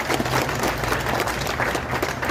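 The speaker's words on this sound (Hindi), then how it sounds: "जोरदार तालियां।" Loud, dense applause from a crowd at a protest gathering, a continuous roar of clapping at full strength throughout with a faint low hum underneath.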